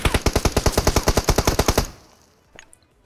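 In PUBG Mobile, a rapid automatic weapon fires about fourteen evenly spaced, loud shots, then cuts off into a fading echo, followed by a faint, distant pop.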